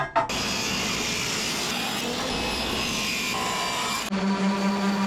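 Wooden teak block having its bevels trimmed off with a power tool during a boat door refit, a steady close whirring grind running almost the whole time before cutting off near the end, followed by a lower hum.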